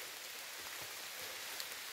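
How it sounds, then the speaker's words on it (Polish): Steady rain falls during a downpour, an even hiss of drops on surfaces with faint occasional patters, continuous and fairly close, no voices. "że się w końcu rozpadało trochę, bo dzisiaj z przerwami pada od rana"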